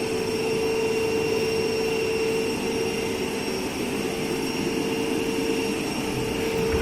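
A DC shunt motor on a test bench runs steadily at about 1500 RPM, its loud, constant hum and whine holding even throughout with no voices.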